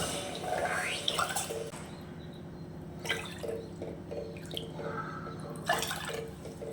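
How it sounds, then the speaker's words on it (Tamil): Water poured into a bowl holding 150 grams of sugar for syrup, a steady trickling and dripping stream with a few splashier surges, alone and fairly close. "அதே மாதிரி ஒரு 4 மடங்கு தண்ணி ஊற்றிக்கலாம்."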